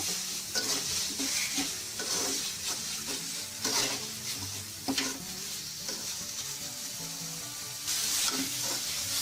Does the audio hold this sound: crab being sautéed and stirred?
yes